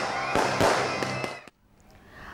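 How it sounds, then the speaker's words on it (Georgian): Fireworks closing a beer festival in Poti, Georgia: loud sharp bangs and crackling bursts over a dense roar, several distinct cracks in the first half, then a sudden drop to quiet distant ambience. "ღონისძიება ფეიერვერკით დასრულდა."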